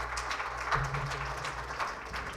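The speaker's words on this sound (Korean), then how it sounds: "발표에 수고해 주신 박근덕 상무께 다시 한번 박수 부탁드립니다." Audience applause at a corporate new-product and policy presentation, a dense, even patter of many hands clapping indoors over a low hum, lasting briefly.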